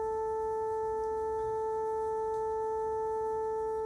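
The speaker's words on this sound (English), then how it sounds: "We'll now add the second harmonic at 880 Hz." A steady pure 440 Hz tone sounds together with its 880 Hz second harmonic, both sustained evenly and unchanging for the whole stretch, alone with no other sound.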